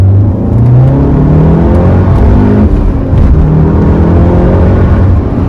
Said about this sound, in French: Je vais faire une petite accélération.